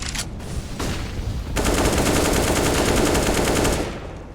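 Automatic gunfire in Counter-Strike: Global Offensive, a few separate shots followed by a sustained rapid burst of rifle fire lasting about two seconds, loud and close.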